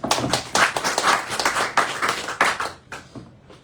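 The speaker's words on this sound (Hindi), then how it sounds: "इनके लिए जोरदार ताली" An audience claps at a business seminar, a fairly close, brisk burst of hand claps that thins and fades out toward the end.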